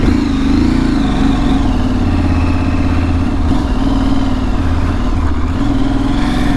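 An Aprilia Tuareg 660 motorcycle pulls away and rides at a steady mid pitch, its engine droning loud and close with a low rumble and slight rises in revs and no talk.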